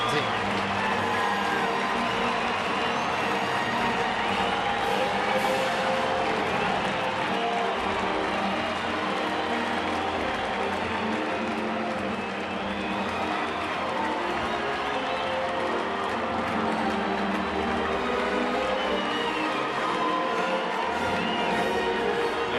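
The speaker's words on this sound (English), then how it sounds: "A well-deserved standing ovation for number 17." Baseball crowd at a stadium in Colorado rising for a standing ovation, a dense, sustained wash of applause and cheering that stays loud and steady throughout with no break, plus the broad murmur of a packed ballpark.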